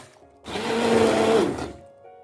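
An immersion blender whirs through tomato sauce in a single loud burst of about a second, with a rising motor whine that cuts off abruptly, close up.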